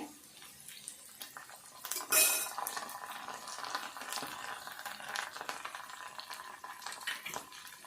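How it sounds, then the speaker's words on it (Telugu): Pieces of bitter gourd and onion fry in a pan as a metal spoon scrapes and clinks against it, a soft stirring and sizzle at close range, with one sharp clatter early on and no talking. "ఉల్లిపాయ ముక్కలు వేసుకొని కలుపుకోవాలి."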